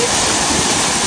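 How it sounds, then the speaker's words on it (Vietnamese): A waterfall roars in a dense, constant wash of rushing water, loud and close, with no other sounds. "Đấy, cái thác cực kỳ đẹp luôn."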